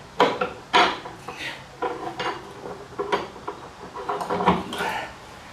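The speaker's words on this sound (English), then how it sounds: "Now I'm going to put the bar back in." A metal line-up bar slides into the front wheel of a Honda VTX 1300R during a tire replacement, giving a series of close scraping, clinking metal knocks and rubs at an uneven rhythm.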